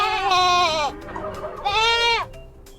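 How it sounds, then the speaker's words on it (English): A goat bleats twice, loud and close, each call a wavering nasal cry of roughly a second with a short pause between, standing alone without talk. "It's a goat."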